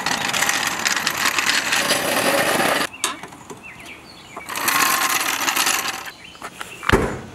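Loud metallic rattling and clanking as a roll bar installed in a Mazda Miata NB is shaken, a sustained shaking clatter in bursts, a pause, then another burst, ending with a sharp thump.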